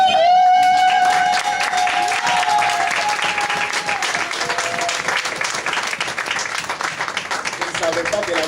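A church congregation bursts into loud, sustained applause and cheering, many hands clapping close by alongside music, with voices rising over the clapping.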